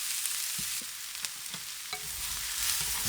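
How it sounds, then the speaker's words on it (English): Red onion stir-fried with kumara in a pan, a soft continuous sizzle with a few light, scattered scrapes of a utensil, fairly quiet throughout. "Just mixing the red onion through"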